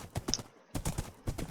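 Horse hooves clip-clop in a video game, a quick run of rhythmic clattering beats broken by a brief pause, close and moderately loud.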